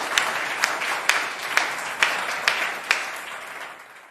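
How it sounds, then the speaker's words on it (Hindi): The audience at a Hindi kavi sammelan poetry gathering gives a poet a welcoming round of applause, a steady crowd clapping with a few louder individual claps cutting through at regular intervals as it fades. "जोरदार तालियां बजाकर संतोष सावंत को आमंत्रित करिए।"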